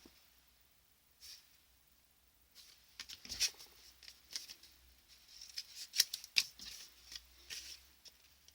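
Scissors cutting straight across paper for a chocolate gift box, faint close snips and rustling paper handling in short irregular bursts against near silence.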